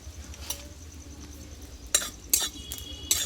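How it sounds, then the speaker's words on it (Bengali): Fennel seeds dry-roasted in a hot pan for a Bengali potato dish: a few metallic clinks and scrapes of stirring against the pan, spaced irregularly over a faint, steady background hum. "এই মৌরিটা আমি আগে ভেজে নেব শুকনো খোলাতে"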